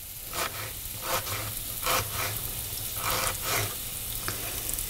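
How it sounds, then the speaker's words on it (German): Chopped onion sizzles in a hot pan for vegan tofu scramble, with a soft steady fry and a few scraping stirs every second or so. "Die lassen wir kurz in der Pfanne ein bisschen anbraten."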